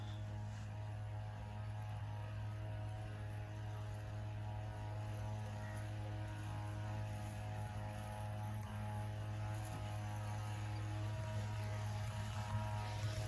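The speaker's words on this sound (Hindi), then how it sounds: "ये जो इंजन के साथ स्प्रे करनी होती है, इसमें आपका ज़्यादा जोर नहीं लगता" A small engine-powered crop sprayer runs in a village field, a steady droning motor hum with a constant pulsing tone throughout, fairly close and unbroken.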